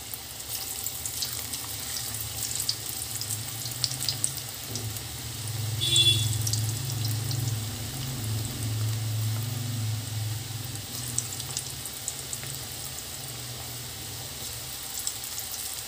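Mix bhujia pakoda fry in hot oil with a steady, soft, continuous sizzle and hiss that swells slightly midway, heard alone without talk.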